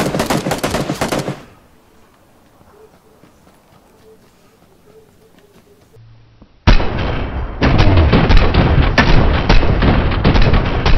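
Loud rapid automatic gunfire from a video game, a short burst at the start, then a near-silent gap, then a sustained dense barrage that runs to the end.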